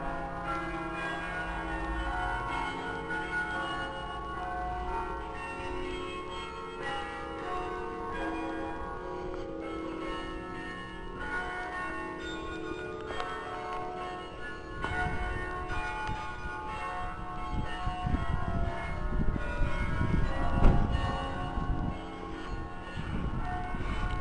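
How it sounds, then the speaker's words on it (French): Church carillon bells in Nivelles ring out a melodic tune, steady and resonant throughout, with a louder rumble joining partway through. "On entend le carillon."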